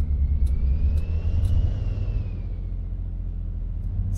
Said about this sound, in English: Engine noise could be a bit louder, but still sounds good.